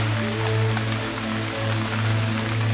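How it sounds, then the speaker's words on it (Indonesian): Rain falls steadily on a slippery mountain trail in misty weather, a dense, loud hiss of drops with a constant low hum underneath and no voices. "Hujan lagi, tapi kayaknya kabut, jadi masih pakai cover dulu."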